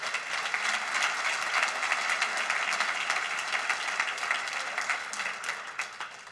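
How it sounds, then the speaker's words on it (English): An audience at a university alumni hall of fame ceremony applauds the inductees, steady sustained clapping filling the hall for several seconds without a break. "give one more round of applause to my 4 fellow inductees"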